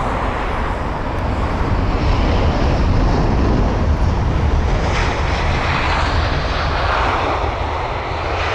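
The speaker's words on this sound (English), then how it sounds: "Here's a rather large American Airlines Boeing 777." An American Airlines Boeing 777-300ER jet taxiing at London Heathrow, a loud, steady engine roar and whine held throughout, close and constant with no talk.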